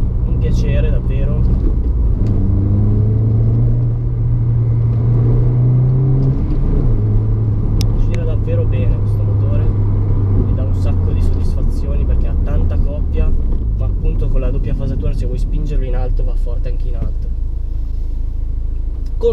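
A MINI Cooper S R56 with 75,000 km on it runs with a steady low engine rumble throughout, close and loud, with a voice talking over it.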